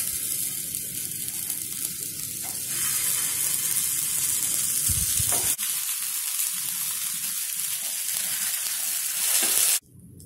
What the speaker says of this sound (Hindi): आंच को बिल्कुल सिम करेंगे और टिक्की को इसके ऊपर डालेंगे।